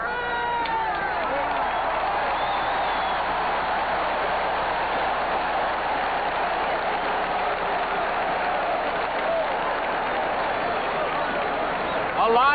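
Football stadium crowd at a 1978 Green Bay Packers home game against the Oakland Raiders: a big, steady roar of cheering and applause carries on throughout, loud and distant-sounding, with a broadcast announcer talking over it briefly.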